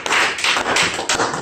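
A church congregation applauds together at an evening worship service, a dense, steady wash of many hands clapping close by with a few slight surges, and no voices heard over it.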